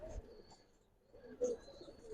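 Nearby Giribaz and Army pigeons give soft, low coos in a couple of short phrases, with a faint chirp in between.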